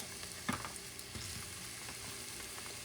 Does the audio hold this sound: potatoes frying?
yes